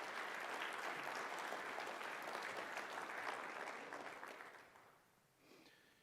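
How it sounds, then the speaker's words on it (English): Applause for outgoing board members at an annual meeting luncheon: a room full of people claps steadily at moderate volume for several seconds, then fades out. "we'd like to give those guys a round of applause"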